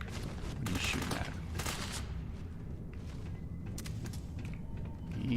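Gunfire in Starfield comes as a few sharp shots and short bursts spaced out over several seconds, moderately loud, with mechanical clanks between them.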